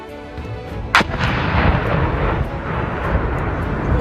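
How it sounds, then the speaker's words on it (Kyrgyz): An OZM-72 bounding landmine detonates during an engineers' field exercise. It gives one sharp, loud blast followed by a long, rolling rumble that lingers for several seconds. "ОЗМ-72 жарылгандан кийин"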